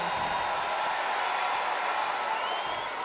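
A wrestling arena crowd in WWE 2K19 roars steadily for a women's wrestler's entrance, a continuous wash of cheering and applause at moderate level, with no clear speech over it.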